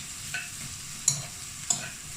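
Chicken jalfrezi curry reducing in a pan, giving a soft, steady sizzle with a few light clicks from stirring. No one speaks.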